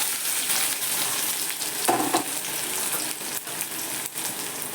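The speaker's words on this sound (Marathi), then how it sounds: "तोपर्यंत इकडे तेल तापते लसूण टाकला थोडंसं जिरं टाकायचं" Garlic and cumin sizzle in hot oil in a pan with a steady, close crackling fry. There is a brief stirring scrape partway through, and no talk.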